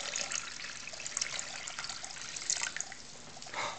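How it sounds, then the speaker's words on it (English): Blue colored water poured into a container of clear water, a close, soft trickling and splashing stream that dribbles on steadily for a few seconds. "we'll see what will happen when we pour this blue water in this clear water"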